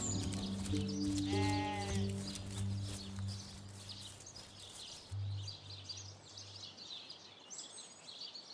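Sheep bleat a few times in Divinity: Original Sin – Enhanced Edition, one wavering bleat standing out, with bird chirps and a soft ambient bed behind them, no talking.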